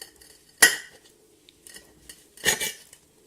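A knife cuts through a crispy scotch egg on a plate, giving two sharp clinks and scrapes of metal on ceramic with quiet gaps between them.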